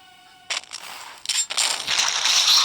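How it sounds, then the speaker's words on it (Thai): Gunshots fire in the video game Sakura School Simulator, with sharp sudden bursts and a few quick shots followed by a denser, sustained crackling volley, close and loud. "กด Y เป็นการยิงนะครับ"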